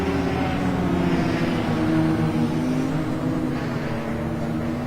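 Race car engines in a racing video game accelerating as the field goes back to green, a blended drone of several engines rising in pitch together and fairly loud.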